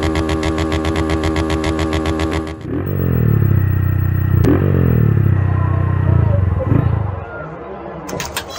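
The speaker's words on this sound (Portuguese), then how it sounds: "Agora, com esse escapamento meu barulhento, você me escuta de longe." A loud motorcycle engine revs hard, its exhaust roaring and swinging up and down in pitch, with a sharp clatter partway through.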